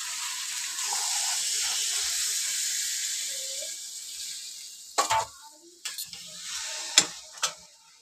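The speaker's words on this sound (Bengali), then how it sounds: "গরম জল ঢেলে দিচ্ছি।" Hot water poured into a pan of chicken biryani gives a loud, steady hiss and sizzle for several seconds, fading out before a few sharp clatters and scrapes near the end.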